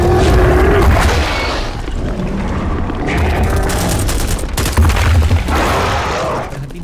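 Gunfire in a dinosaur-island action scene, a dense, loud and continuous barrage of booming shots and bursts that sound close and keep going without a break.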